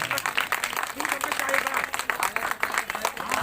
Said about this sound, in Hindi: सभी लोग अपनी जगह खड़े हो जाएं और जोरदार तालियों से स्वागत करें।